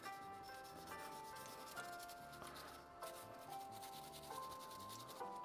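Brush scrubbing a Canik pistol during cleaning, a steady, soft rubbing scratch that runs continuously at low level with faint clicks, quiet and close, without talk.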